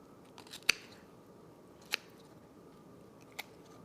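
Scissors snip loose the throat skin of a walleye during taxidermy mounting, three sharp, isolated clicks spaced about a second apart over a quiet room background.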